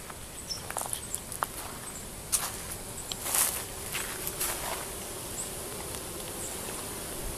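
Honeybees buzzing just outside a beehive on a warm June afternoon, a steady soft insect hum with scattered brief nearby passes of individual bees, faint and continuous throughout.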